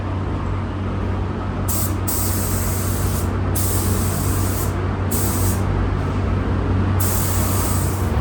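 Spray gun laying base coat onto a Honda CR-V hood during a repaint, a steady loud hiss in bursts of several seconds with short pauses between passes, over a constant low hum of compressor or booth fan.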